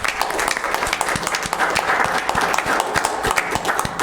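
Graduates receive a round of applause at a Weber County commission meeting, steady clapping from a small room audience that is loud and close and runs throughout without pause.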